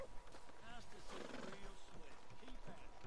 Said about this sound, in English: That's a humongous horse.